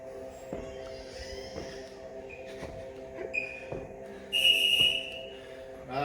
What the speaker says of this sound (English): 10 seconds till that halfway whistle